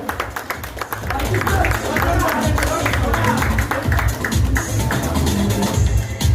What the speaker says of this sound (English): So big round of applause for, I think there is two, there's one more.